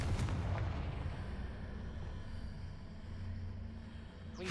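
A Confringo spell explosion in the Hogwarts Legacy video game opens with a booming blast that rolls into a low, rumbling tail lasting several seconds.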